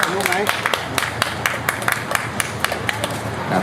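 Loose, uneven clapping from a gathered crowd at the ribbon-cutting opening of an eating contest at a Bang Pa-in branch, with sharp individual claps spaced over steady background chatter.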